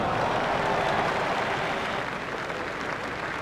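Dense, steady applause and crowd cheering from a cricket video game stadium after a six, a broad wash of clapping that fills the stands and eases slightly toward the end.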